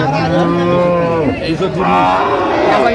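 Cattle low loudly and repeatedly at a cattle market, long drawn-out moos overlapping one another up close, with a busy crowd murmuring faintly behind them.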